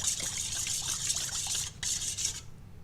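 Water mixed with a little olive oil is poured over veal for Maltese beef olives, giving a steady, bright trickling splash that runs for about two seconds, breaks briefly and then stops.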